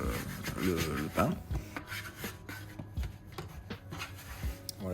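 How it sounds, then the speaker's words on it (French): A palm patting and pressing homemade bread dough to seal the loaf's seam, soft dull taps and rubbing against a work surface at close range, mixed with steady background noise. "avec la paume de la main, vous tapez bien pour bien sceller le"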